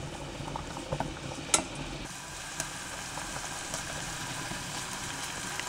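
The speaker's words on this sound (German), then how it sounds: "Dann tue ich auch den Zwiebellauch rein. Und nur leicht andünsten." Spring onions gently sauté in about three tablespoons of oil in a pan, giving a steady, soft bubbling sizzle with a few light clicks near the start and no talking.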